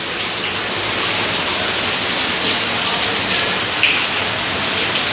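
Heavy rain pours steadily during building flooding, a dense, unbroken hiss of water at constant loudness with no voices.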